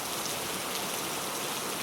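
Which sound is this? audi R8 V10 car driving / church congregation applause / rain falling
rain falling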